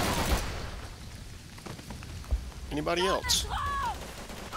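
Distant rattling gunfire and scattered shots from World War II combat in the Call of Duty 3 video game play faintly under a voice and other voices.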